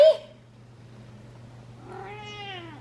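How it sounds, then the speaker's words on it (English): A house cat gives a short cry at the start and then a drawn-out, rising-and-falling meow close by, over a steady low hum indoors, with no talking. "You saw a real cat"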